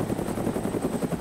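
Rapid automatic gunfire from the DayZ video game, a dense steady rattle of shots lasting the whole moment at moderate loudness, with no talking over it.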